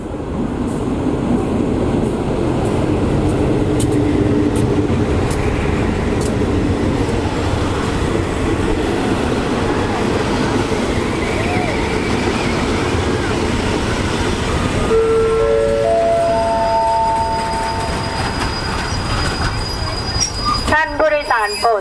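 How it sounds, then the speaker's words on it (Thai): Close by at Muak Lek railway station in Thailand, train 234 runs behind yellow-nosed GA diesel locomotive 4543 with a loud rumbling engine and rolling wheels. A rising horn or whistle tone sounds near the end, with voices over it. "สำหรับขบวน 234 นะครับ เป็นรถจักร GA 4543 หน้าเหลืองนะครับผม"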